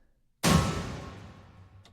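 A single djembe hit strikes once, sharp and close, then rings out with a fading decay.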